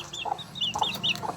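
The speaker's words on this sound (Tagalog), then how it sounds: "Yan ang original na inahin kong walang kaliskis." A scaleless-breed hen clucks close by in a short series of sharp, rhythmic calls, several quick notes spaced about a fraction of a second apart.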